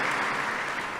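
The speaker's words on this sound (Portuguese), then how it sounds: "Você pode aplaudir o Senhor?" A church congregation breaks into a burst of applause, a dense, even roar of many clapping hands filling the whole moment.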